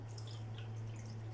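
Half a cup of water poured into a fish marinade of salt, minced garlic, vinegar and lemon juice, a faint trickling splash over a steady low electrical hum.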